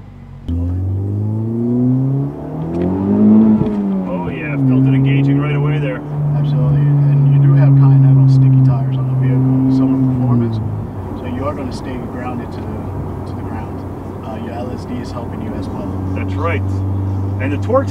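A Honda Civic Type R engine hums and revs from inside the cabin, rising in pitch as it accelerates, then settles to a steady drone while people talk over it.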